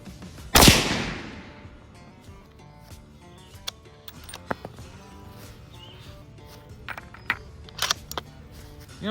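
A Howa Mini Action rifle in 7.62x39 fires a single loud 123-grain round near the start, a sharp crack with a decaying tail, followed by quieter clicks and handling knocks.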